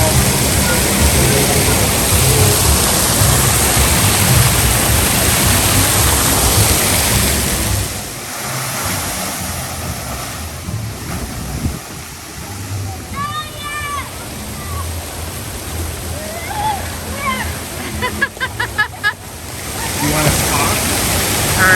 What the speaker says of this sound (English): the big sprayers, splash zone type stuff